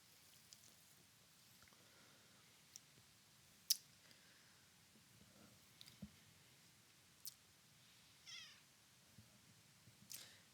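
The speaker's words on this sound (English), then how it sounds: "That was the cat." A domestic cat gives a couple of short, quiet meows in a still room, with scattered soft clicks and taps around them and no one talking.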